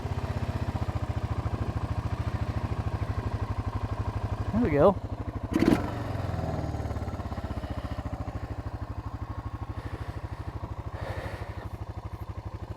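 An old ATV engine idles a little high with a steady, rapid putter throughout, close and even, while someone speaks briefly over it.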